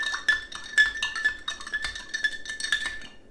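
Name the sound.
stirring pickling liquid in a jar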